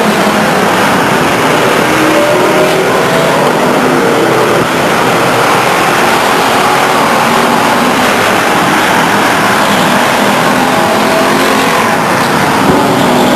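Race cars roaring down the backstretch at Stockton 99 Speedway, a loud dense wall of engine noise sustained throughout as the pack passes close by.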